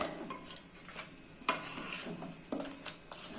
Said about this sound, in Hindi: अभी इसको अच्छे से मिक्स कर लेते हैं।